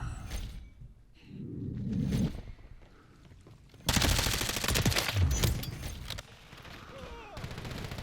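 A JAK Decimator-equipped Lachmann Shroud fires in a video game, loud sustained bursts of rapid gunfire dominating the second half after quieter noises, with a voice briefly heard early on.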